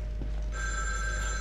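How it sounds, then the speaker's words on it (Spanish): Public payphone ringing in the horror game The Evil Within 2, a steady electronic bell tone that starts after half a second and rings continuously over a low background hum, fairly close and clear. "Teléfono público."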